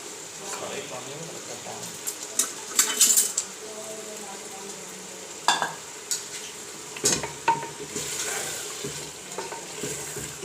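Mutton pieces tipped into a pot of spiced oil with cinnamon and black cardamom for aloo gosht, giving a steady sizzle and frying hiss broken by clinks and scrapes of a spoon stirring against the pot.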